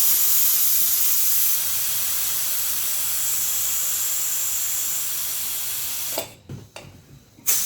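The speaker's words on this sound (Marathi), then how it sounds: "आता कुकर झालेला आहे भाताचा। आपण आता त्याची वाफ काढून घेऊया।" Steam vents in a loud, continuous hiss from a pressure cooker of freshly cooked rice. It holds steady for about six seconds, then breaks into a few sputtering bursts as the release ends.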